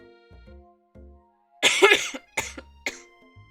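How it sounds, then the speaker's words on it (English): Harsh bursts of coughing from a single person, three or four loud hacks in quick succession after a quiet stretch with faint low tones in the background. "I can't quit coughing."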